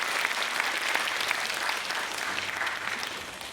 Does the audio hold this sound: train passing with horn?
no